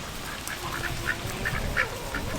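Ducks quack near a small pool of water on a homestead farm. The calls come as a run of short, moderately faint quacks at irregular intervals over a steady background hiss.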